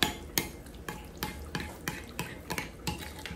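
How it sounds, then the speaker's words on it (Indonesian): A whisk beats a mixture of black pepper, cumin and other seasonings in a bowl, a steady run of about a dozen sharp clinking strokes at an even rhythm, close and alone. "Dan lalu kita kocok,"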